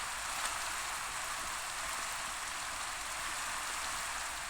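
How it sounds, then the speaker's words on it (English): Steady rain falls in the video game Minecraft, a constant, even hiss of rain on surfaces with no changes and no voices. "It's still bloody raining."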